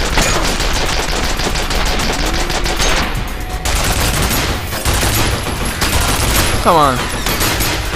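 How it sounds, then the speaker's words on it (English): Turret firing in the video game F.E.A.R. Perseus Mandate: sustained rapid automatic gunfire, loud and relentless across the whole stretch, with someone briefly talking over it. "There we go with the turret"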